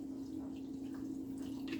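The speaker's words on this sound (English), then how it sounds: "Pour my water in." Water trickles and pours softly into a cement mix in a container, faint and close, with a steady hum underneath.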